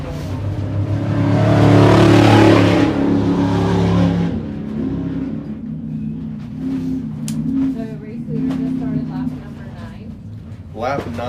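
Stock truck racing at the High Desert 100 in Powell, Wyoming, roars past loud and close, then its engine fades into the distance while spectators talk nearby.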